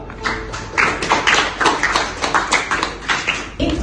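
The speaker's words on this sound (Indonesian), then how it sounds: "tepuk tangan dulu" A class of students claps for a group after its presentation, a dense run of sharp overlapping claps that fills the room for nearly four seconds before ending abruptly.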